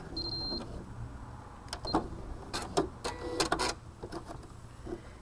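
Sewing machine stitching the bar tack at the end of a buttonhole, heard as a close run of quick mechanical clicks and whirring bursts, alone without talk.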